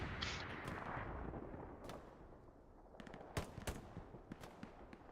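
Gunfire in an online multiplayer World War II-style shooter match, scattered sharp shots and short bursts at moderate distance over a low rumbling background, some rapid cracks clustered toward the end.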